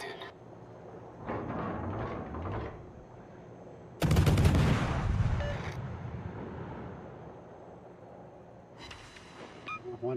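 Heavy naval gun salvos in World of Warships, with one loud booming blast that rolls off over several seconds, and fainter firing earlier and later beneath someone talking.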